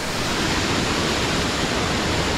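Ice-cold, glacier-fed mountain stream at high altitude on a Colorado off-road trail, a steady, close, full-bodied rush of flowing water with no breaks or voices.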